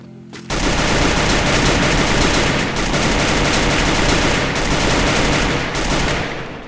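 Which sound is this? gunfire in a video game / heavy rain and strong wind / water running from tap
gunfire in a video game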